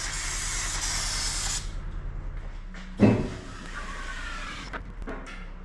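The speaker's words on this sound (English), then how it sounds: "Hit it with a little bit of brake cleaner." Brake cleaner sprays onto a 2012-2014 Honda CR-V transmission in a loud continuous hiss lasting over a second, followed by a sharp metallic clunk and quieter handling noises nearby.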